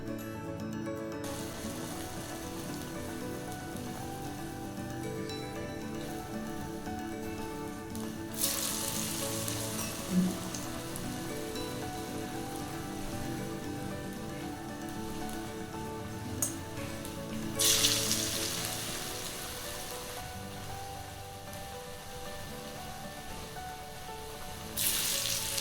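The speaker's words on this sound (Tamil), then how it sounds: "இப்போ எண்ணெயில் போட்டிருக்கோம்." Potato masala bondas fry in hot oil with a steady, close sizzle and crackle that runs throughout, swelling louder in a few bursts as the bondas are turned.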